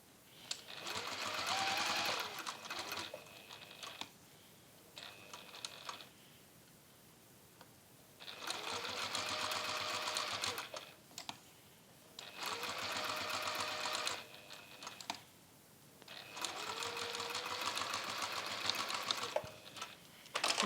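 A sewing machine stitches fabric for an EPP trinket holder, running in several close bursts of a few seconds each with short pauses between, including forward-and-back and top stitching.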